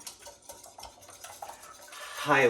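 A mini whisk beats French toast egg batter in a bowl, giving a run of soft rapid clicks and scrapes, close and moderately loud, growing louder and busier toward the end with no talk.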